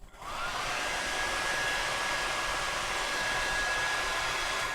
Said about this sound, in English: Let's get the blow dryer.